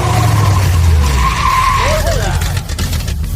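A car brakes hard from about 50 mph at a cone on the road, its tires squealing and skidding loudly in a sustained screech, with a loud engine and road rumble underneath and voices reacting nearby.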